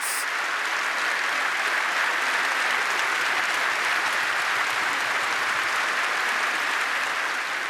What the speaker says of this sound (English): the song eventually ends to thunderous applause